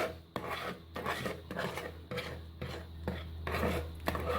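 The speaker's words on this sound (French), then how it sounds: "Et je vais ajouter petit à petit ma framboise. Voilà, donc je remue avec un fouet." Raspberry being whisked into already whipped cream for a vanilla raspberry bavarois, a steady, close rasping scrape of the whisk in rhythmic strokes with brief pauses.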